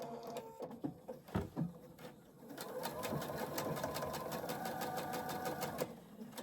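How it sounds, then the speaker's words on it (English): A sewing machine stitches quilt pieces, with a few scattered clicks and bumps at first, then a fast, steady, rhythmic run of needle strokes, quiet and close. "We'll stitch a couple of these just so then I can get them off my table."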